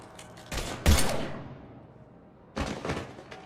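Short bursts of gunfire in a Mass Effect 3 firefight, two loud clusters of rapid shots separated by a brief lull, close and sharp.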